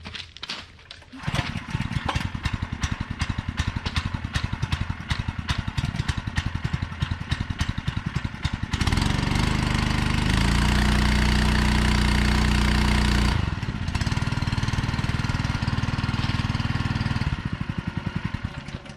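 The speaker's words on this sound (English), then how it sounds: "Alright, let's just start the pump again." A Honda WB20XT gasoline water pump engine chugs close and loud in a rapid steady rhythm, then its roar grows heavier and denser for several seconds before settling back to the earlier running beat.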